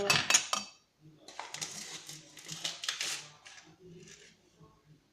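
A metal spoon scooping baking powder for cookies, light clinks and scrapes against a container, close and quiet, with a few soft bumps between them.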